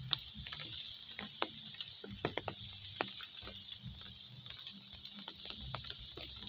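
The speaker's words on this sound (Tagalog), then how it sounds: "Pero kunti na lang yung ulan ngayon, pumapatak-patak pa." Faint, scattered drips and light taps of rain patter irregularly against a quiet background hiss.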